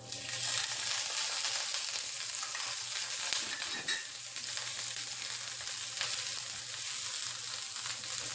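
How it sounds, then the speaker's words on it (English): Garlic sizzling in avocado oil in a hot pan, a steady bright crackle that holds throughout, with a faint low hum beneath and a brief clatter partway through. "I'm going to saute that just for a minute"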